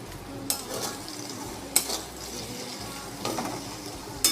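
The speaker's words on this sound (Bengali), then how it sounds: "পেঁয়াজটা ভাজায় দিয়েছি নুন দিয়ে, পরিমাণ মতো তেল" Sliced onion frying in oil with salt in a pan for a chicken curry, a steady soft sizzle with a few brief louder stirring scrapes, close and alone with no talk.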